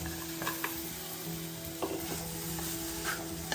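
Sliced banana sizzles as it is stirred into a pan of frying grated coconut and sugar, with soft spatula scrapes over a steady, faint crackle, alone and close.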